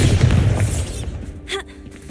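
Bombarda spell explosion in the video game Hogwarts Legacy: a single heavy booming blast that hits hard and rumbles out, followed by a short softer magical whoosh.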